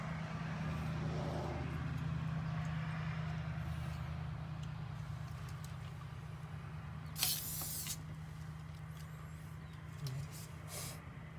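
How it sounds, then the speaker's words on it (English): Against a steady low hum, a can of spray paint hisses out a short, bright burst onto a 2021 Toyota Supra wheel, then a fainter second spray a few seconds later. "You want to be moving when you apply the spray."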